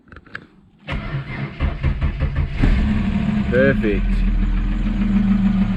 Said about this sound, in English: Those lifters are so noisy on a cold start